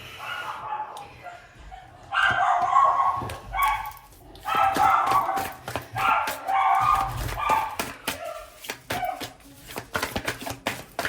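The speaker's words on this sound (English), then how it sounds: "My dog's going crazy, sorry." A dog barks excitedly indoors in loud, rapid bursts with yips and brief pauses, close to the microphone, repeating for about eleven seconds.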